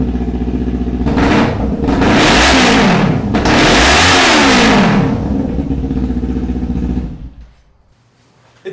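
A motorcycle fitted with a Leo Vince slip-on exhaust revs loudly several times in a garage, the deep roar swelling and falling in bursts before cutting off near the end.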